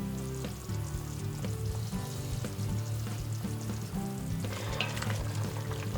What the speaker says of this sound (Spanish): Y una vez que rompa a hervir, lo dejamos cocer durante unos 20 minutos, más o menos, a fuego suave.